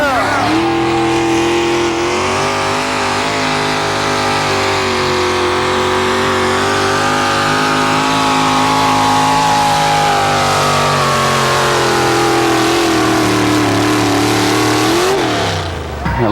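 A Chevrolet truck engine revs hard and steady through a 1987 truck pull in Fishersville, the loud roar holding near and continuous with pitch shifts before easing off at the end.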